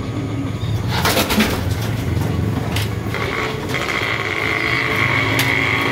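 Racing pigeons in a loft in Mindoro coo in low repeated calls, with faint mechanical clatter and a few brief sharper noises in the background.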